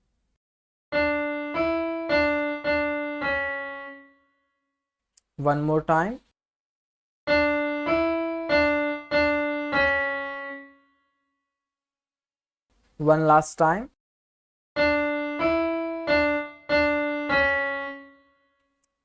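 Short keyboard phrases of the Ganesh Aarti melody played in clear, evenly spaced notes, repeated three times, with brief spoken remarks between the runs.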